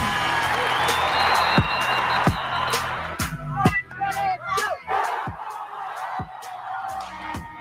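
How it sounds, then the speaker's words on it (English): A crowd cheers and whoops, joined by scattered applause and loud percussive hits, with voices shouting over the noise throughout. "Keep the cheering going"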